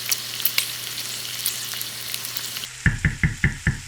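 Garlic paste hits a hot pan of browned beef and onions for beef stroganoff, a steady background sizzle giving way to a series of sharp, rhythmic frying bursts as it is stirred in, close and fairly loud, with no talking.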